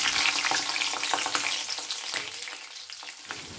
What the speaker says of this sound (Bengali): এখন আমি ফোড়নের জন্য তেলের মধ্যে দিয়ে দিচ্ছি 1/2 চামচ গোটা জিরে।